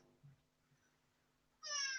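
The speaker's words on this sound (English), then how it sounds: "You're a cat." A house cat gives one clear, fairly loud meow near the end, after a quiet stretch with only a few soft low thumps.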